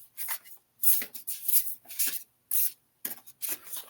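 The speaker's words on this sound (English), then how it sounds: "So we are going to shuffle these" A deck of tarot cards is shuffled by hand, with quick papery riffling and rubbing bursts repeating in close, clear strokes and short pauses between them, with no talking.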